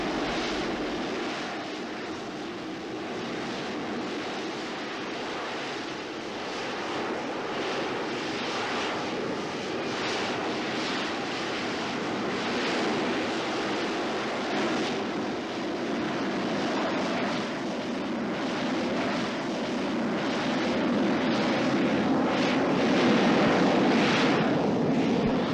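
A Harrier jump jet's engine gives a loud, steady roar that holds for the whole stretch and swells slightly toward the end, broad and rushing with no voices over it.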